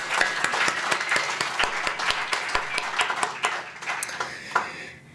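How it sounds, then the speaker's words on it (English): An audience at an Indigenous knowledge seminar claps steadily, and the applause thins and fades out toward the end. A faint tonal ping rings under the clapping. "can we give a round of applause for the second time?"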